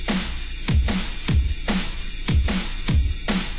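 A double-time dubstep-style drum beat loops with alternating punchy kicks and snares in quick, steady succession, clean and loud with no other sounds.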